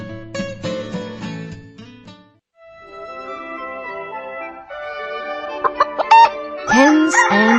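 Hens cluck in a series of short, close calls, loud and irregular, with a brief pause partway through and a busier burst at the end.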